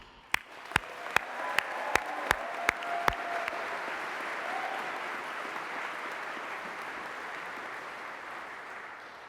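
A crowd at a graduation ceremony breaks into broad applause for the graduates, opening with several sharp, evenly spaced claps before swelling into dense, sustained clapping that slowly tapers.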